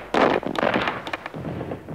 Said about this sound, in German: Liegen unter feindlichem Beschuss.